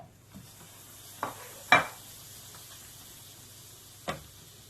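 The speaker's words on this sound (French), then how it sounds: "dans une poêle, je vais faire fondre mon beurre" Butter melts in a frying pan for an apple tart with a faint, low hiss, broken by a few sharp knocks and scrapes of a utensil against the pan.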